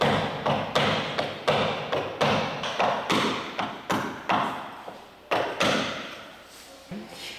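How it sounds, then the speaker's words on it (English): A caulking iron is struck repeatedly to drive caulking into the seams of a boat deck, producing a steady series of sharp wooden thuds about three per second, close and alone. "this is a caulking iron rather than a making iron"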